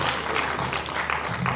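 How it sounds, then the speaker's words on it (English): An audience at a press conference on airport broadband connectivity claps steadily, a dense, even wash of applause from a roomful of people, moderately loud and without pause. "let's keep clapping for him until he gets to his seat."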